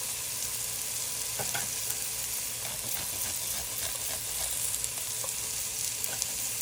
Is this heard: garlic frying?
yes